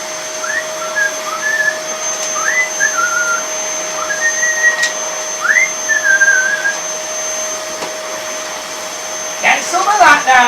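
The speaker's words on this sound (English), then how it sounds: "You're hoovering all day long." Steady loud whine of a vacuum cleaner running throughout, with a high motor tone and scattered whistled chirps over it, and a short burst of voice near the end.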